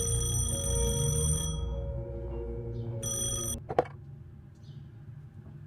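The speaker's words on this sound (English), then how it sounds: "Oh, better answer the phone" Old-style telephone bell ringing in a detective video game, a steady metallic trill in two bursts with a short gap, loud and close against a low hum, then a clunk as the receiver lifts.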